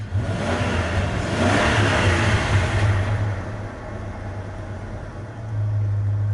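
The engine of a 1994 Dodge 1500 pickup runs close by, a steady mid-pitched hum that swells briefly as it revs, drops back, then rises again near the end.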